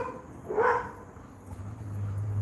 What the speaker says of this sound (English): Excuse the dogs next door.